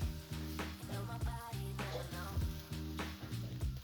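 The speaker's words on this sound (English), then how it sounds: "give it a final toss together" Beef stir fry sizzles in a hot pan as it gets a final toss, a close, steady frying crackle laid beneath pitched music.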